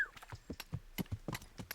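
Hooves clip-clop in a quick uneven rhythm as a horse moves in the medieval video game Kingdom Come: Deliverance, each step distinct and close, with a faint whinny-like edge.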